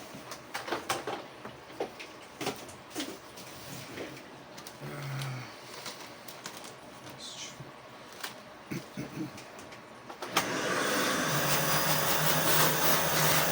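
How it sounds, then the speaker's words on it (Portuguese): Quiet tool handling and soft clicks during reassembly of an Acer Aspire E15 (E5-574) laptop, then a vacuum cleaner switches on abruptly and runs loudly and steadily through the final few seconds. "Eu gosto muito mais do meu aspirador, que é mais forte que esse, mas é o que tem para hoje"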